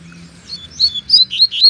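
A coleiro seedeater sings in short bright chirps near the edge of scrubby brush, a quick run of five or six sharp notes that grow louder toward the end, alone without voices.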